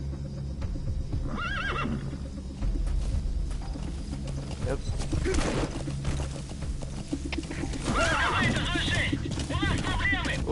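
A horse in Metal Gear Solid V: The Phantom Pain whinnies twice, once early and again more loudly near the end, over game effects and hoof clatter while someone talks briefly.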